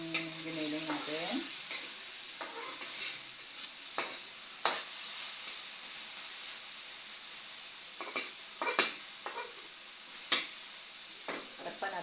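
Ground meat sautéing in a pan for ginisang labong, with a soft continuous sizzle under repeated sharp scrapes and clicks of a spatula stirring against the pan.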